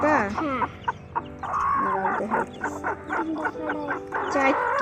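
A flock of newly bought chickens and young chicks clucking and cheeping up close, a busy stream of overlapping calls with some voices talking nearby.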